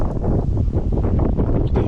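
Steady, blustery wind buffets a microphone beside an English carp fishing lake, a constant low rumbling roar with gusty swells and no break across the whole stretch.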